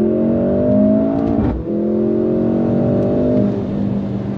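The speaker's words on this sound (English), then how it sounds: "I'll mash the throttle and see how it accelerates up to the speed limit" A 2024 Mercedes-AMG GLC 43 with a V6 accelerates hard under full throttle, its engine note climbing loud and close. There is a brief dip as it shifts gears, then the revving rises steadily again.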